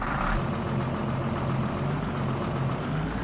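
A John Deere 55 series tractor in Farming Simulator 19 idles steadily with a deep, low engine rumble and a gritty mid-range growl, loud and continuous throughout with no talk.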